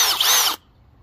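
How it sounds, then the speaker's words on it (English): A power drill bores holes in a resin planter pot: one loud, close burst of whirring and cutting that stops abruptly after about half a second, followed by near silence. "Step one, drill holes."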